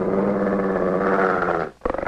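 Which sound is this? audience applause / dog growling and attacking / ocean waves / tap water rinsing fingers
dog growling and attacking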